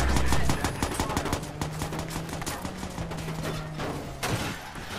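Rapid bursts of gunfire crackle nonstop in the Watch Dogs video game, dense and close, with a few sharper single shots standing out.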